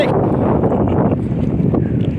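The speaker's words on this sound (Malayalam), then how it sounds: "നല്ല കാറ്റടിക്കുന്നുണ്ട് ഇവിടെ" Strong wind buffets the microphone atop a water tank at a hilltop viewpoint in Iritty, a steady, loud rumbling roar throughout, gusting slightly but never letting up.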